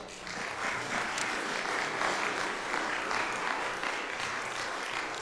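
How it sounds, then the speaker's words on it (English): A church congregation gives a round of applause for a missionary couple, steady, dense clapping from a large crowd that holds fairly even for about five seconds with no talking over it. "Let's give them a round of applause."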